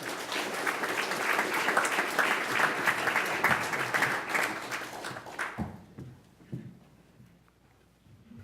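An audience claps to welcome a speaker to the podium at a talk on US–China relations, with steady, full applause for about five seconds before it thins to scattered claps and fades out.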